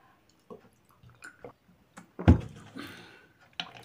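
A plate rinsed and washed by hand with water: soft scattered knocks and drips, then a louder splashing rush midway, ending in a few quiet clatters, with no voices.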